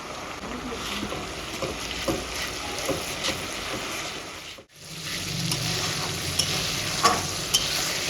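Ginger, garlic, green and dried chili, coriander and cumin paste tipped into a pot of thin mutton curry and stirred, a steady close sizzle with scraping strokes and a brief pause midway.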